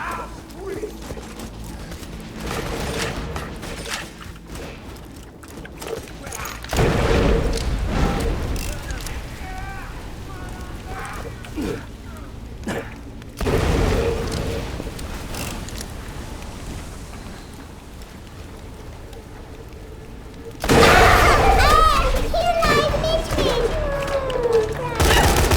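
Bursts of video game shooter gunfire in several loud stretches, some rapid like automatic weapons, with a player talking over the action.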